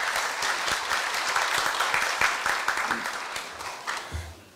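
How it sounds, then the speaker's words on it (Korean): Audience applause at a university staff retirement ceremony in Korea, a steady dense wash of many hands clapping in a hall, sustained throughout and tapering slightly near the end. "큰 박수로 맞이해 주시기 바랍니다"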